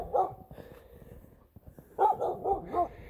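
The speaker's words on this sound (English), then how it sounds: "If I don't get attacked by a dog." A dog barks outdoors on a snowy walk, with a couple of close barks at the start and a burst of several rapid barks after a short pause, moderately loud.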